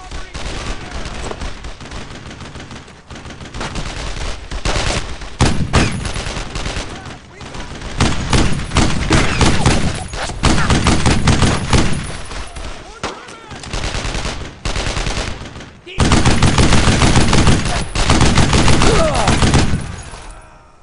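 Heavy automatic and rifle fire in Brothers in Arms: Road to Hill 30 sounds as loud, dense bursts of rapid shots in repeated volleys separated by brief pauses across a chaotic firefight.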